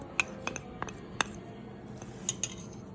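Ground cardamom and pepper powder are mixed into a rice-flour batter for palm fruit fritters (thati garelu), with a spoon tapping and clinking sharply against the bowl in a handful of scattered, close strikes.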